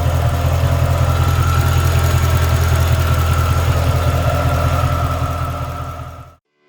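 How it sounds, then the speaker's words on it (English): A rebuilt Mercedes-Benz AMG engine runs at a steady, loud idle just after starting, with a deep even rumble throughout, then cuts off abruptly near the end. "After successful engine start"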